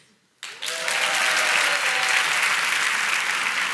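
Live studio audience breaks into applause after a brief quiet moment, a dense sustained clapping from a crowd that swells quickly and stays loud until the end.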